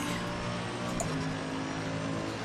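A race car engine in Assetto Corsa Competizione at Watkins Glen drones loudly and steadily throughout, a dense constant roar with no clear shifts or pauses.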